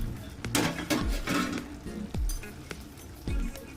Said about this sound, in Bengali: 5 মিনিট হয়ে গেছে, আমি ঢাকনাটা খুলছি।